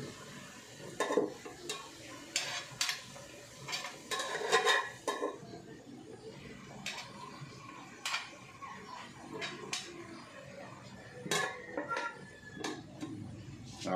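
Metal clanks and clatters from a cooking pot of kangkong as its lid is handled and set in place. The sharp knocks come irregularly at close range, with quiet gaps between them.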